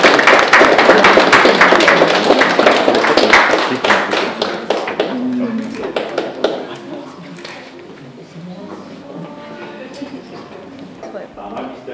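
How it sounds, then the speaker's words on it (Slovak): Audience at a winter photo contest ceremony applauding a participant, dense clapping from many hands that gradually thins and fades, with voices talking as it dies down. "Pán Ondrej, si zaslúži aj potlesk."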